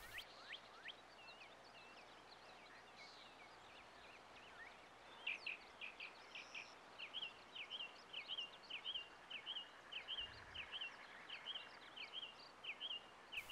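Small birds chirp and twitter repeatedly in the open outdoors, a steady run of thin, high calls over a soft, faint background hush, with no talking.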